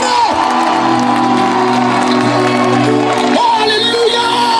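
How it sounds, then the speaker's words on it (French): A church congregation cheering and acclaiming Jesus, a loud continuous roar of shouts, whoops and voices filling the hall throughout. "S'il vous plaît, acclamez Jésus de Nazareth."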